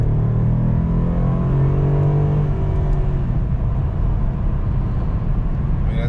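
A four-door sedan fitted with a Camaro engine cruises down the road, its low engine hum and tyre rumble steady and fairly loud, with a brief rising tone early that fades into broad road noise.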